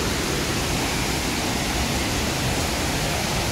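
Waterfall at Bheemlat in Bundi pouring steadily, a dense, unbroken roar of falling water heard up close, loud and even throughout with no voices over it.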